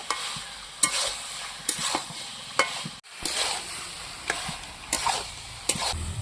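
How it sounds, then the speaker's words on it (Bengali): Jackfruit and potato, fried beforehand, being stirred into a spice mix in oil, with repeated scraping strokes and a steady low sizzle, close by and alone. "এবার দিয়ে দেবো আমি এখানে ভেজে রাখা কাঁঠাল আর আলু মশলার সঙ্গে ভালো করে মিশিয়ে নেব"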